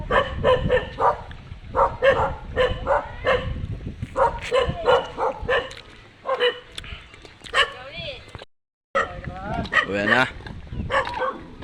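Several dogs bark repeatedly, close and loud, with yips and a whimper in between, while people talk over them.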